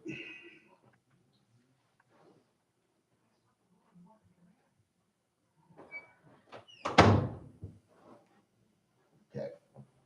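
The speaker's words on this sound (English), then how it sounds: "Let me close this door real quick." An interior door pushed shut at close range, a single firm thud of wood meeting the frame, with faint shuffling and low talk before and after it.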